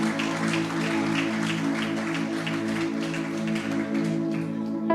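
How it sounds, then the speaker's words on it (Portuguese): A church congregation applauds during a sermon, a soft, even patter of many clapping hands carried over sustained music. "Você pode aplaudir a Jesus?"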